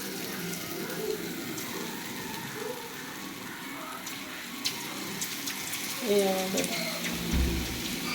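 Boondi batter spooned into hot oil gives a soft, continuous sizzling hiss, faint and steady with a few small crackles. A voice speaks over it now and then.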